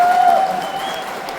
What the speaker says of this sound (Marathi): महाराष्ट्र भूषण अर्थातच अशोक सराफ सर यांच्यासाठी जोरदार टाळ्या